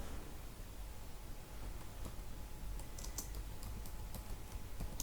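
Quiet, close computer keyboard typing, a faint stream of light key clicks over soft background hiss with a few brighter taps near the end.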